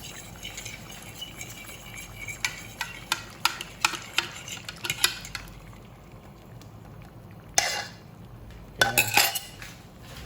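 Spoon scraping and clinking against a pot as blood is stirred into simmering dinuguan, a run of sharp metallic knocks, then a quieter pause and a few more clanks, close and under a low sizzle.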